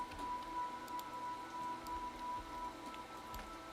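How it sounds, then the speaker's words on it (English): Rainfall in the video game Vintage Story: soft, quiet patter of drops on surfaces, a low continuous hiss with scattered light taps and a faint steady tone beneath. "Uncommon rainfall."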